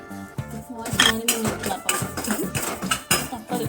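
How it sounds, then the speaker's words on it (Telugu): Rice poured into a pan for roasting, part of a Bathukamma festival offering, rattles and clinks in close, uneven bursts against the metal, with voices talking underneath. "బియ్యం వేపుకోవాలి కదా సో బియ్యం వేసేస్తాం"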